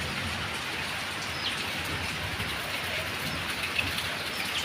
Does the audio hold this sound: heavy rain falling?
yes